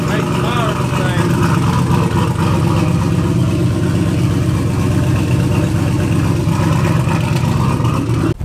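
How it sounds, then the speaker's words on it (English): A car engine running on a Holley Terminator X Max EFI system rumbles steadily and close by at its first start-up, with a continuous low idle throughout and no pauses. "It fired up pretty fairly easy on the Holley Terminator X"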